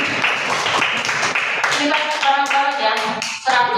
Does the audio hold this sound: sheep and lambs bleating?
no